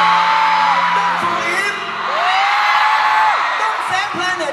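A concert crowd at a T-POP festival whoops, cheers and screams continuously and loudly, with a voice over a microphone talking across the noise.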